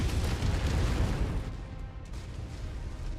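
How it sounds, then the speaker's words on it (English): Exaggerated explosions go off when a mech is hit in MechWarrior 5: Mercenaries, a loud, rumbling boom that fills the first half and then fades into a lower, steady roar. "I fucking hate the exaggerated explosions when you get shot at."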